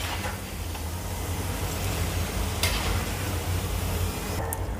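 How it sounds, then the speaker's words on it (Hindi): Potatoes and cauliflower frying in hot oil in a kadai give a steady, continuous sizzle with soft bubbling crackle, close and even throughout, with no voices. "हम कढ़ाई के अंदर तेल डाल के इसके अंदर हम आलू को फ्राई करेंगे"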